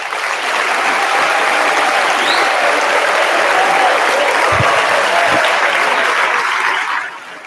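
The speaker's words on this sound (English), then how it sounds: "all our graduates deserve another round of applause" Steady, dense applause from a large audience at a graduation ceremony, rising quickly and holding loud before fading off at the end.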